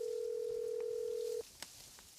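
A steady telephone tone sounds from an unanswered call, holding at one pitch for over a second before stopping, followed by faint room sounds and a small click.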